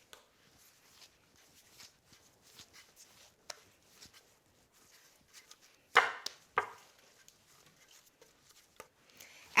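Hand-made phyllo dough is kneaded by hand for spinach pie, giving soft, irregular thumps and slaps against a work surface, quiet overall with a few sharper knocks near the middle and end.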